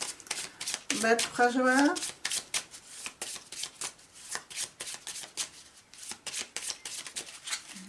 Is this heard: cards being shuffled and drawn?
yes